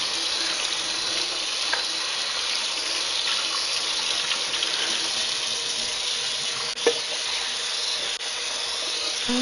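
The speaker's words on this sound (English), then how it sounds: "No, I'm doing the dishes right now." Dishes washed under a running kitchen tap: an even, continuous rush of water fills the whole stretch, close and steady, with a couple of faint clinks of dishes and no talking.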